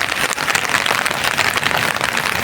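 Rain falls on an open umbrella carried along an expressway on a wet, stormy day, a dense, steady patter close overhead with no breaks and no voices.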